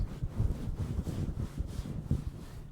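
Soft teddy bear fur rubs right against an uncovered microphone with a metal grille, making a close, muffled, rumbling rustle that swells and fades without pause.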